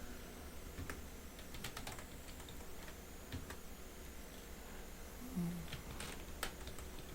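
Keys tapped on a computer keyboard while entering spreadsheet records, a scatter of soft, quick clicks over a low steady room hum, fairly quiet and close.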